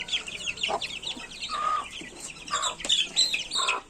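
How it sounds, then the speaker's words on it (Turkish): Chickens cluck and chirp close by in short, scattered calls, a busy coop sound with no clear crow, among young yellow roosters. "Sarı çapar, horoz."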